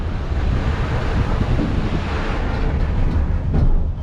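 Rain and wind roar over a moving cargo train in a Turkish canyon, a dense, loud, steady rush of broadband noise with buffeting gusts and no voices.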